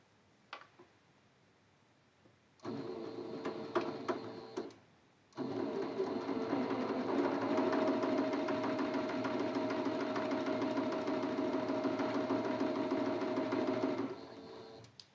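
A home sewing machine stitches quilt blocks for a Churn Dash quilt, running in a short burst of about two seconds, then after a brief pause in a long, steady run of about nine seconds, close and clear.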